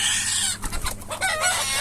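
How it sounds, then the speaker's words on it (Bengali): Desi chickens on a poultry farm cluck and call in close, busy bursts over steady background hiss, with no talk. "দেখেন মুরগিগুলো কত চঞ্চল।"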